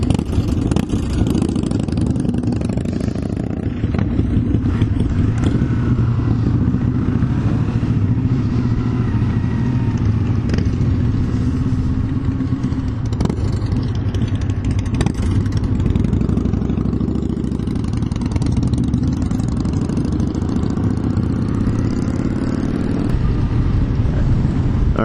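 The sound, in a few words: Yamaha YZF-R3 motorcycle riding on road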